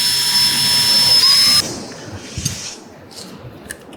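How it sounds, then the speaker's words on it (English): A drill bores a hole in a motorcycle part on a 2018 BMW S1000RR during a clip-on handlebar install. A steady, whining motor hiss runs for about a second and a half, then cuts off, leaving quiet room noise with a few small clicks. "and drill away"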